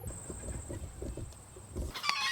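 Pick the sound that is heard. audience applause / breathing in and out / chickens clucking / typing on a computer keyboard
chickens clucking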